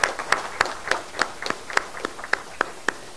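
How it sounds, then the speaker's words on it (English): Sparse, irregular hand claps from an audience at a university alumni reunion, sharp separate slaps rather than a full roar of applause, fairly close with no talking. "let's give a good round of applause"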